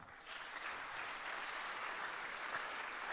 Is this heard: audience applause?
yes